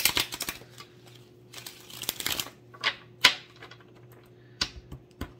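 Tarot cards being shuffled in several short riffling bursts with pauses between them, close and fairly quiet over a low steady hum, with no talking.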